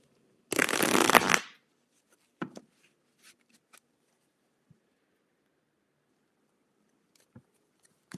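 Tarot cards riffle in one quick, close shuffle lasting about a second, followed by a few faint, sparse taps and card handling in an otherwise quiet room.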